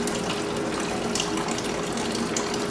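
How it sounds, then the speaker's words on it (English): Water runs steadily from a kitchen sink tap in a continuous, close, fairly loud hiss and splash with no pauses and no talking. "go over to the sink, grab a handful of water from the tap, and throw it onto the board"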